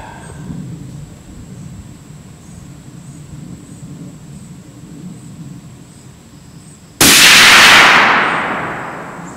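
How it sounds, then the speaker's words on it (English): A Christensen Arms .300 Win Mag rifle fires one powerful shot, a sudden loud crack with a long echoing tail, after several seconds of quiet outdoor background hiss. "So let's go one more shot on that top right corner."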